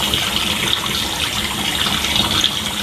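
Water runs steadily and loudly outdoors while a face is wetted before a beard is shaved, a close continuous gushing spray with no talk.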